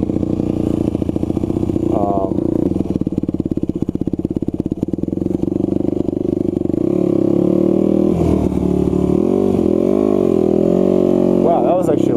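A 2001 Yamaha WR250F supermoto ridden on a street, its single-cylinder engine droning loud and close, revving up and down with wind rush and some clatter.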